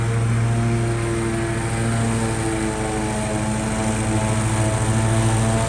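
A lawn mower engine runs steadily at close range, its droning hum dipping slightly as it bogs a little under load, with no voices over it.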